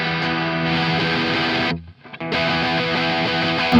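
A loud, heavily distorted electric guitar riff played continuously, with a brief drop to near silence midway before the riff resumes.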